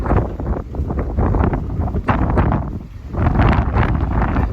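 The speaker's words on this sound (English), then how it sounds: "Extremely windy today." Strong wind buffets the microphone beside a fish pond in loud, continuous gusts, rumbling and roaring without pause.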